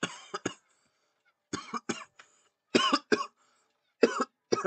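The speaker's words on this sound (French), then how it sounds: "J'ai toussé." A person coughs in several short, sharp bursts, some in quick pairs, close and loud with silent gaps between them and no talking.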